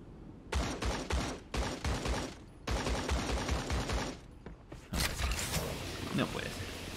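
Rapid bursts of automatic gunfire in the shooter game Creative Destruction, loud and close, coming in several clustered volleys with short gaps and a scattered shot or two afterward.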